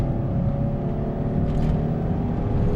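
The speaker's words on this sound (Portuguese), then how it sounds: "Vamos dar uma acelerada." A Fiat 500 Cinquecento climbing a hill in second gear, its engine droning loud and steady from inside the cabin as it accelerates, with a low humming tone throughout and no talk.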